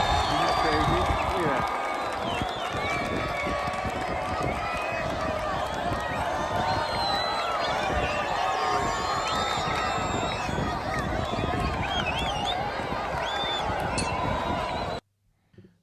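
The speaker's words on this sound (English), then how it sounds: "These are Gazans cheering the American army." A large crowd of Gazans cheers and shouts in a dense, continuous roar of many overlapping voices, loud and close throughout before cutting off abruptly near the end.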